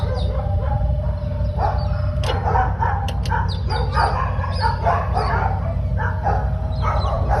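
Dog chasing a lure outdoors, giving a run of sharp barks and yips at mid distance over steady background noise, with a faint tonal hum at first.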